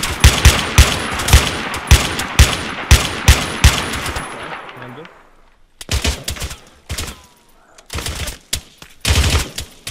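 Bursts of automatic rifle fire and single shots ring out in the Arma 3 military shooter, loud repeated cracks in rapid clusters with short pauses between volleys.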